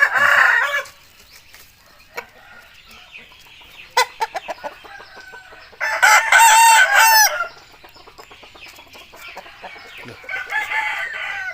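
Roosters crow loudly and nearby in bursts amid steady hen clucking at a Thai chicken-rearing yard, a long crow standing out midway and others trailing later.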